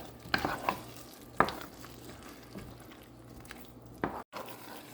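Onion and capsicum frying in a pan for restaurant-style chilli chicken, stirred with a spoon: a quiet sizzle with a few sharp scrapes and clinks against the pan.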